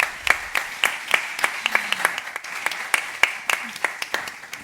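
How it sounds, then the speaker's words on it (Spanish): An audience at a CaixaForum Macaya talk on attention and mental health claps in a light, sparse patter of distinct individual claps, moderately close and fairly quiet. "por favor, un aplauso"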